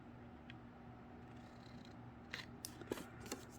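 Scissors cutting an angle off paper for a 12x12 scrapbook layout, a few faint quick snips near the end over a quiet low hum.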